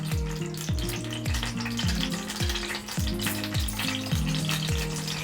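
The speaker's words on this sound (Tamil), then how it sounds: "கடுகு உளுத்தம் பருப்பெல்லாம் போட்டுக்குங்க." Mustard seeds and urad dal frying in hot oil and ghee for a sambar tempering, a steady crackling sizzle close by with repeated stirring scrapes and no talk.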